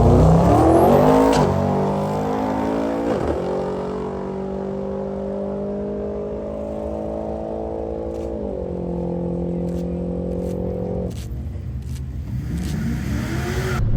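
A Dodge Demon 170 on a drag run gives a loud, sustained engine roar with stepped rising pitch sweeps through the gears, then eases off toward the end.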